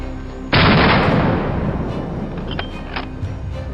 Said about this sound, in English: From the neighboring mountain, the sound of gunfire echoed nonstop.